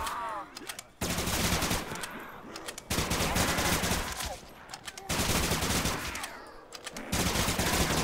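Gunfire from a Call of Duty Zombies game, loud rapid automatic bursts separated by short pauses, with weapon reload clicks and game effects between volleys.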